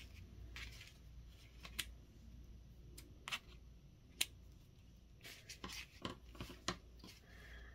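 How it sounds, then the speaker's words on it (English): Scissors trimming ribbon on a fall-themed handmade card, giving a scattered series of quiet crisp snips and clicks, close but faint, with no talk. "And then go ahead and trim it with your scissors."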